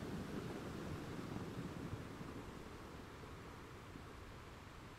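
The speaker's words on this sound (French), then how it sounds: "Tu entends la mélodie des vagues qui déferlent sur le sable." Ocean waves wash onto a sandy shore as a soft, steady, distant roar that stays even throughout, with no distinct single breakers and no voices.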